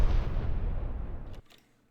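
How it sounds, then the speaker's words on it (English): An explosion sound effect drops with the 808 in a futuristic Chief Keef-style trap beat made in FL Studio: a loud, booming blast that rumbles and decays for over a second, then cuts off into near silence. "I got this explosion effects."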